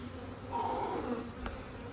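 A steady, low buzz of honey bees droning at a hive, with a faint hum swelling slightly midway, and no voices.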